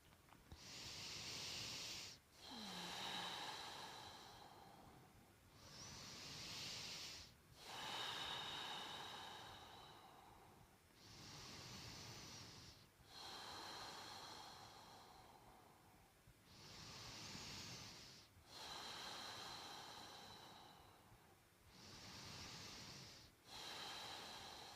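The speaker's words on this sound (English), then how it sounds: "normal breathing in and out through the nose" Slow, regular breathing in and out through the nose during a lower-back and hip exercise session, about eight close, soft airy breaths, each inhale and exhale separated by brief pauses, no talking.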